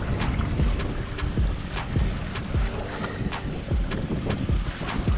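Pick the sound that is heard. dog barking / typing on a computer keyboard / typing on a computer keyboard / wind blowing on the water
wind blowing on the water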